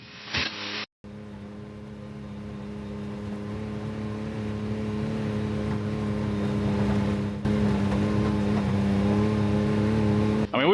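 A Can-Am off-road vehicle climbs an Appalachian trail in early November, its engine a steady, loud drone that builds gradually after a brief cut near the start, with no voices.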